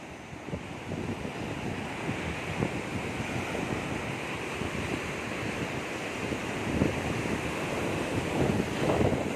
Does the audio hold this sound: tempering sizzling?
no